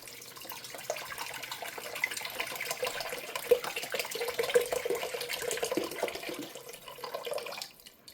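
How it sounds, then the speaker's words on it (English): Vegetable broth pours from 32-ounce containers into a chili pot, a steady liquid gurgle and splash that runs for several seconds before tapering off near the end. "We're going in with 2 32-ounce containers of vegetable broth."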